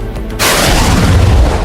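A sudden loud blast at a food house beside a terminal in Baguio City, recorded on CCTV, breaks in after a brief quiet lull and gives way to a sustained roaring rumble of debris and noise.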